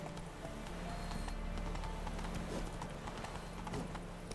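Horse hooves galloping in The Witcher 3, a steady, fast clip-clop rhythm close by, with a brief whinny and a low ambient bed behind it.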